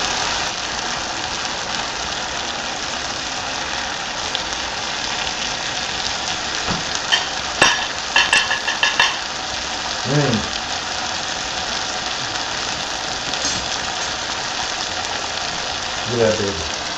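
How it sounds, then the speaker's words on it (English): Big chicken pieces simmer in a Chardonnay wine sauce with a steady broadband sizzle and bubbling throughout, broken by a few louder clinks and scrapes midway, with occasional voice-like sounds near the end. "Nice big pieces of chicken, cooking down nicely with that Chardonnay wine sauce that's really cooked into it"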